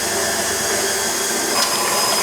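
An electric mixer whips egg whites for eggnog with a steady, high whirring whine, close and continuous, with a brief scrape partway through.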